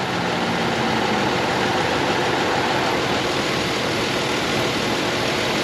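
A car engine idles steadily and evenly with a low rumble throughout, heard up close with no talking, during checks of engine oil and coolant on a vehicle whose radiator holds sludge.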